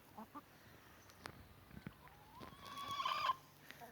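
A chicken gives a drawn-out clucking call near the end, faint and outdoors, preceded by scattered soft taps and rustles.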